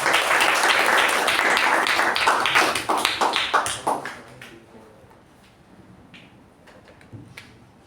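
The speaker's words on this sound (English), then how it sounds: "Let's give her a resounding round of applause." Members at a Toastmasters meeting give a round of applause, thick clapping that thins into a few scattered claps before dying away into quiet room tone.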